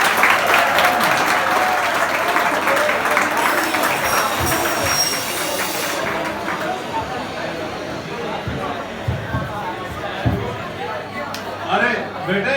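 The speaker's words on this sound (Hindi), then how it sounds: "जोरदार तालियों से स्वागत कीजिए" Loud applause from a school audience fills the first half, dense and sustained, then fades into scattered claps, chatter and children's voices in a large hall.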